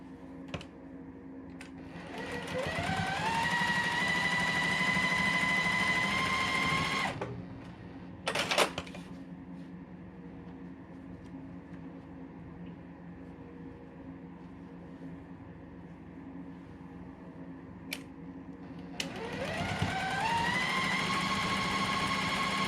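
A sewing machine stitches quilt block pieces in two close runs of steady whirring, with a short burst in between and a quiet stretch before the second run.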